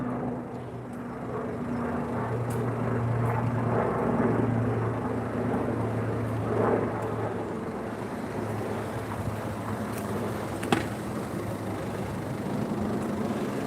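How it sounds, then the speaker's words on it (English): A steady low drone from a helicopter overhead in the United Kingdom, mixed with wind buffeting the microphone, continuous and moderately loud throughout, with no talking. "Oh, there's a helicopter up there."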